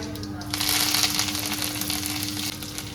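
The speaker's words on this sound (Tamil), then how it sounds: "எண்ணெய் ஊற்றியாச்சு கடுகு கடலப்பருப்பு உளுத்தம்பருப்பு சேர்த்துக்கலாம் கூட கொஞ்சமாக சீரகம் சேர்த்துக்கலாம் அடுத்ததாக கருவேப்பிலை" Mustard seeds, chana dal, urad dal, cumin and curry leaves sizzle in hot coconut oil as a tempering for beetroot kootu, a steady close crackling hiss that swells after a brief quiet start, with a voice speaking over it.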